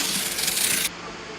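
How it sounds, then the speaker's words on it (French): Knife blade slicing an opening through cardboard, a short close rasping scrape lasting under a second, then quiet. "Pour découper une fenêtre, percez le carton et y découpez une ouverture."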